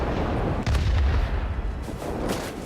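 Aircraft cannon fire in the World of Warplanes air combat game, a burst of heavy booming shots under a dense rumbling engine and battle din for a few seconds.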